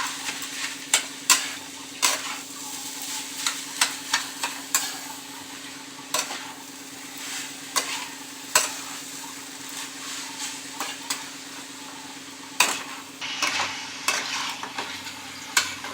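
Jaggery and pitha filling stirred in a pan, with repeated spoon scrapes and clinks at an irregular pace over a low steady hum, close and moderately loud, with no talking.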